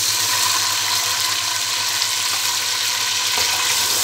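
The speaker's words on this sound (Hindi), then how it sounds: "कैसी प्याज की आवाज़ आती है ना तड़के की" Onions sizzle hard in a pan for a tadka while khichdi is being cooked, a loud, dense, unbroken hiss of frying that holds steady from start to finish.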